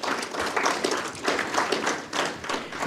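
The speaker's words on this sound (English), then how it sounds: "Let's clap for them." Audience applause for trade delegates at an investment panel session, a fairly loud, steady round of clapping with surging bursts across the whole stretch.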